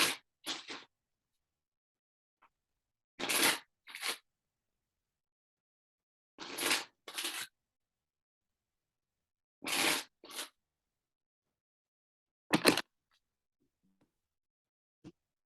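Tarot cards being shuffled by hand in several separate short bursts, each a quick riffle or slide of cards lasting under a second, spaced a few seconds apart with quiet gaps between, fairly close and soft.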